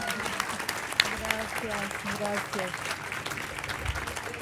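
A crowd applauds steadily after a commemorative speech honouring Spanish antifascists who liberated Paris, a dense sustained patter of many hands, with a brief spoken thanks near the start.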